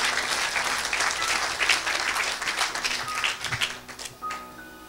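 A church congregation applauds for Jesus with sustained, dense clapping that swells and thins in waves, close and lively throughout.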